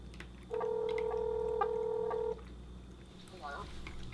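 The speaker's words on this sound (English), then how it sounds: "Okay, so now it's time to dial a friend." A phone's dial tones come through a Bluetooth baseball cap's built-in speaker as a steady run of beeps lasting about two seconds, followed by a short quieter burble.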